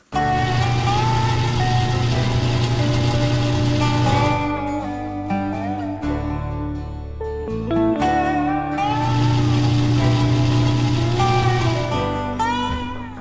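A lathe boring bar bevels the inside edge of a grade 5 titanium ring, giving a loud, continuous machining whine with sustained tonal ringing that shifts and briefly drops midway before resuming.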